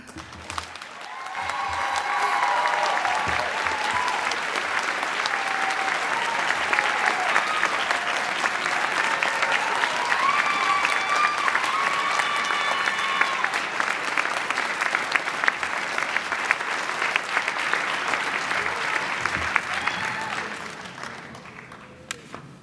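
A commencement audience at an arts university alumni ceremony breaks into sustained applause, swelling quickly to a dense, steady roar of clapping that holds for about twenty seconds before tapering off.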